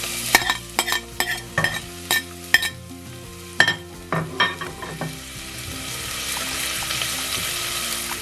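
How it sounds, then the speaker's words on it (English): Red onion hits hot olive oil in a pan. A few sharp clatters and stirring knocks come first, then a steady, close sizzle of frying that fills the rest, with no talking. "So I'm just going to add these to the pan now. Here we go. Here goes the red onion."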